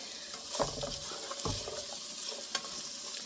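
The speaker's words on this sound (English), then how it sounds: "we just wanna let them get a little saute, get a little chicken bone on them" Chicken pieces sauté in a hot, greasy pan for an easy stir-fry, giving a steady sizzle with a few louder pops and stirring scrapes, close and with no talking.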